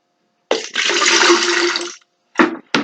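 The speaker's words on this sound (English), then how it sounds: "I'm going to pour this into this pitcher so you can really see it" Grey water from a foot-pedaled washing machine is poured into a gallon pitcher: one steady, loud splashing pour lasting about a second and a half, followed by two short bursts of liquid near the end.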